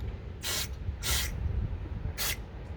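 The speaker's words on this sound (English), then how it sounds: "before installing the new ones, I like to use some brake cleaner" Brake cleaner sprayed onto the brakes of a BMW M car, heard as three sharp aerosol hiss bursts, the middle one longest, with short pauses between, close and fairly loud with no talking.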